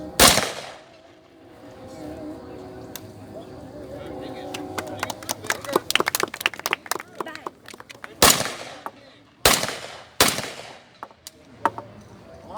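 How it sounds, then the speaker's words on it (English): World War II reenactment weapon test-fired outdoors, with several sharp loud reports followed by a rapid burst of shots, then more single heavy blasts, with people talking between the shots. "So he's going to demonstrate this weapon right now. He's going to test fire."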